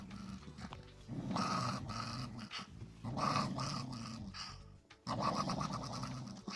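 An angry dog growls in rough, drawn-out bursts separated by short breaths, close and fairly quiet, with no other sounds.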